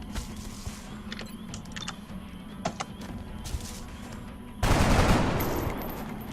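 Video game gunfire from an XCOM squad battle: a low background of small clicks and taps, then a loud burst of automatic fire that erupts near the end and rings out briefly.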